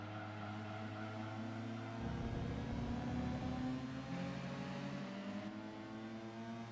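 Racing cars in Gran Turismo 2 rev close behind, their engines holding a loud, steady, layered drone whose pitch rises and surges as they accelerate, with no talking over them.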